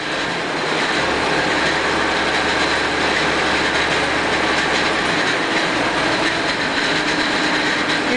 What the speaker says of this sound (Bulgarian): Проверка на работата на двигателя на празен ход може да се направи и чрез поставяне на контролера на различните позиции